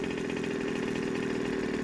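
A 1/5 scale Rovan RC buggy's engine idles during a snow run, a steady, close, mid-pitched buzzing drone that holds even without revving.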